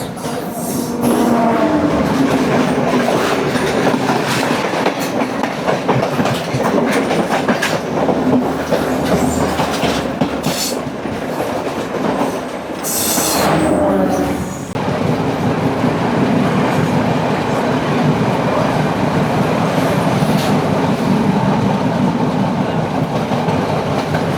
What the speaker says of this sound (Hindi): साउथ स्टेशन पे 1 मिनट रुकने के बाद ट्रेन चल पड़ी दोबारा